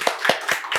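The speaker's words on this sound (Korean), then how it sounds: "우리 하나님께 영광의 박수 올리겠습니다." Four distinct group claps from a church congregation during a Sunday worship service, evenly spaced and fairly close, each a sharp burst in a brief rhythmic sequence.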